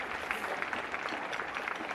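An audience at a welcome address gives faint, steady applause, a dense patter of clapping hands continuing evenly for a couple of seconds.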